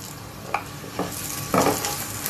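Coarsely ground urad dal is roasted with crushed black pepper in a pan, with a soft steady sizzle broken by a few sharp scraping stirs of the spoon, close and fairly quiet.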